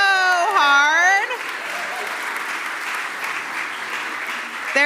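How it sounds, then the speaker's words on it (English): An audience applauds after a Purim spiel performance, with steady, full clapping throughout and a brief shout or whoop near the start. "Let's give them one more round of applause."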